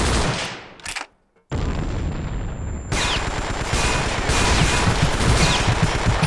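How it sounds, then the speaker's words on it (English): Grease gun fire in the Vietnam war shooter Vietcong, dense loud bursts of automatic shots that break off into a brief silence and then resume in sustained rattling volleys. "You know how to use that grease gun, dude."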